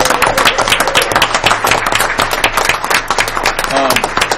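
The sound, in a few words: applause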